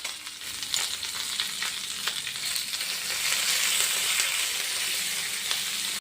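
Curry leaves, Byadgi chillies and green chillies frying in hot oil, a dense continuous sizzle that swells slightly midway, close and loud with no talking.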